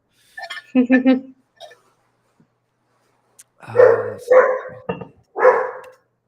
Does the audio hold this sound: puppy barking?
yes